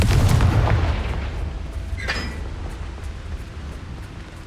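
Confringo spell blasts in Hogwarts Legacy, a heavy booming explosion that rolls and fades away, followed by a brief bright crack and a lingering low rumble.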